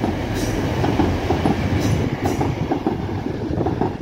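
A diverted TransPennine Express Class 185 diesel unit runs through Broughton Lane Junction, heard as a steady, loud rumble with rhythmic clickety-clack from the wheels crossing rail joints, with no talk over it.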